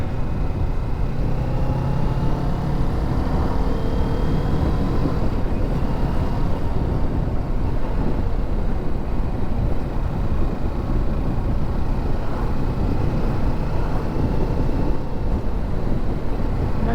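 A Kawasaki Ninja 650 motorcycle engine drones steadily while riding, blended with constant rushing wind noise for the whole stretch, no voices.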